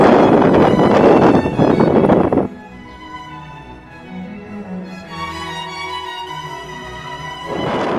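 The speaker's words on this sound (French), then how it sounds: "il y a un vent de fou ce matin, et évidemment, contre moi" Strong morning headwind buffets the microphone of a cyclist bikepacking past salt flats in Sicily, loud rough blasts at the start and end with a quieter gap of tonal ringing between them.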